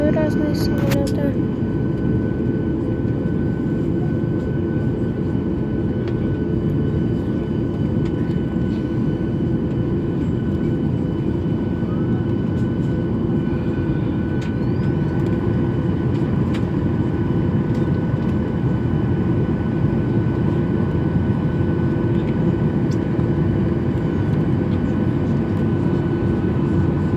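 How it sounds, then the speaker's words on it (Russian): Steady airport ambience with aircraft engines humming and droning continuously at moderate distance, occasional faint clicks, and a person speaking over the engine noise throughout. "Там еще разные самолеты."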